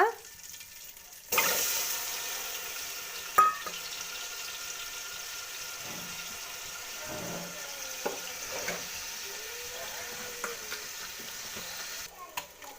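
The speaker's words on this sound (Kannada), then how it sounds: "ಎಣ್ಣೆ ಕಾದಿದೆ. ಇವಾಗ ಇದಕ್ಕೆ ಮೊಟ್ಟೆ ಹಾಕ್ಕೊಳ್ಳೋಣ." Eggs sizzle in hot oil in a pan, a continuous frying hiss that sets in suddenly and carries on with scattered clinks of a utensil.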